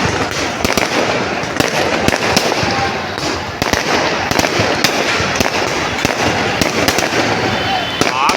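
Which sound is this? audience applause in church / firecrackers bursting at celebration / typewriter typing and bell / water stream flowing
firecrackers bursting at celebration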